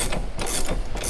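A ratchet wrench clicks rapidly and close up, tightening bolts on the suspension of a 1968 Dodge Charger in quick, loud back-and-forth strokes.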